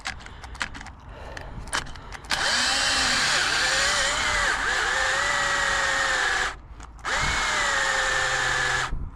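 A cordless drill with a weak battery whirs loudly in two long runs, its pitch sagging and wavering as the motor struggles, with clicks and rattles before it starts.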